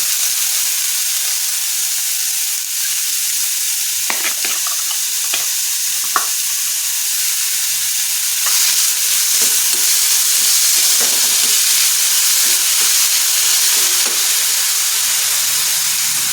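Chopped large onion fries in oil in a pan, giving a steady, loud sizzle and hiss while a utensil stirs and scrapes with several sharp clinks, and the frying swells a little louder partway through.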